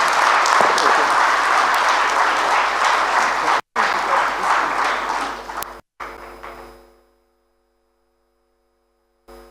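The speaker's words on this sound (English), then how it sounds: "Another round of applause for our governors." An audience applauds the governors at a Nigerian health coverage investment launch: loud, dense crowd clapping for several seconds, briefly cut twice, then fading out to near silence.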